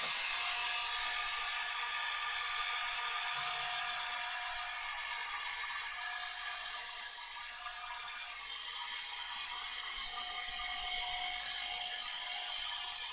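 A hair dryer blowing steadily indoors, a continuous high whirring hiss that holds an even level for the whole stretch, close by, with no talk.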